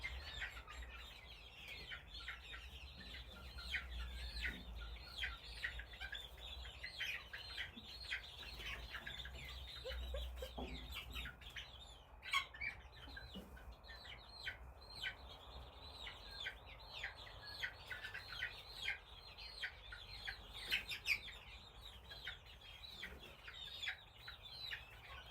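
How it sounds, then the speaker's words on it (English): A flock of young chickens clucks and chirps steadily and quietly at close range, with occasional wing flaps and rustling over a low background hum. "let you guys listen to the ambient chicken stream"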